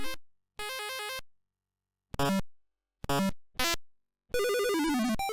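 Sound effects from the Atari 7800 port of the Mario Bros. arcade game: a series of short, harsh electronic beeps and buzzy tonal bursts separated by silences, ending in a longer descending warble.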